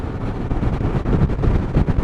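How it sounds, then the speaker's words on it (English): Strong wind buffets the microphone in loud, gusty rumbles that surge and ease throughout, on a motorcycle ride. "It is windy."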